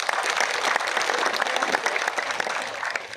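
A crowd applauds at a political rally held at a handloom weavers' gathering in Shantipur, Nadia district, West Bengal, a dense roar of clapping that stays strong for a few seconds before tapering slightly.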